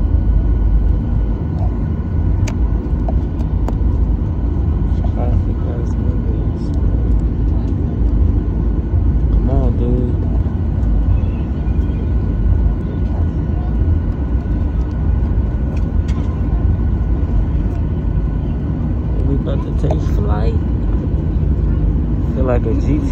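Inside an airliner cabin as the plane's engines build power on the runway, a loud, continuous roar that holds steady throughout, with voices talking over it at times.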